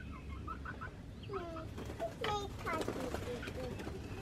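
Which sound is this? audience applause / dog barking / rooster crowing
rooster crowing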